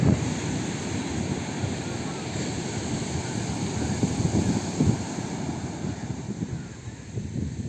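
Sea waves roll onto the shore in a steady, broad rumbling wash, wind buffeting the microphone throughout, with a voice speaking over the surf.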